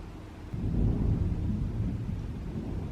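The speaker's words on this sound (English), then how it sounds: "I feel like there's gonna be thunder in a sec." Low rumbling thunder rolls in after a brief quiet moment and sustains for a few seconds, moderately loud and distant, with no voices.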